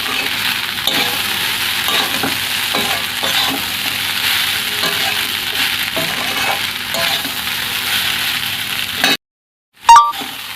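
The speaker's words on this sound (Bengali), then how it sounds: "তো একদম হালকা জলে ভালো করে নেড়ে নেব।" Chira pulao of flattened rice with a splash of water being stirred in a pan, giving a steady sizzle with repeated scraping strokes of the spoon. A brief gap comes near the end, followed by a clink.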